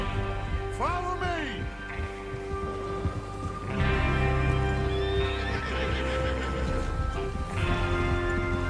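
In the video game Red Dead Redemption 2, horses whinny and neigh while hooves clip-clop steadily, with rain-like background noise and someone talking over them.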